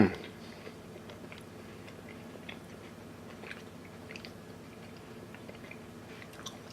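Someone chews a beer-battered crab popper dipped in tartar sauce, with soft repeated close-up mouth sounds and light crunches at a quiet level.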